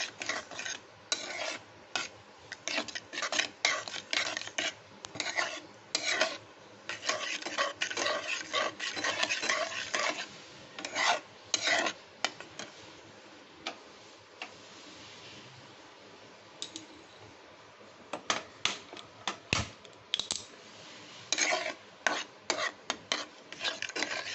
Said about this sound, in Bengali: এবার গাজরটা দিয়ে আমি একটু নাড়াচাড়া করবো ভালো করে একটু নাড়বো